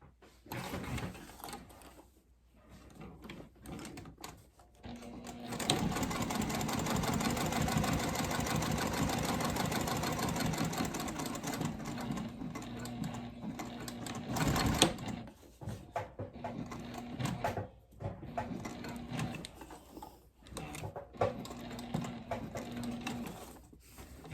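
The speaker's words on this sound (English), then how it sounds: "we're going to top stitch this outside folded edge here using 1/16 and then the second stitch line as well" A sewing machine topstitches the folded outside edge of an overalls front pocket, running in a long, loud, steady burst for about ten seconds, then stopping and restarting in shorter intermittent runs.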